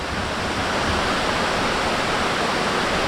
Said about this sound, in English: made it to the landing, one of the landings for Lower Potato River Falls